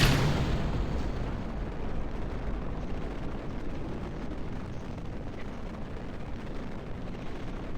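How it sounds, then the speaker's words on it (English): A solid rocket booster with no throttle control firing in a spacecraft game, a dense, unbroken roaring rumble that stays loud and constant for several seconds, with no voices. "It is just a solid rocket booster."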